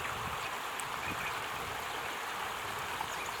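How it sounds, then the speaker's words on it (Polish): Soft, steady rush of flowing water from a natural spring near Salalah, Oman, like a small stream, faint and continuous with no voices. "Woda sobie tutaj wypływa, to naturalne źródła mamy"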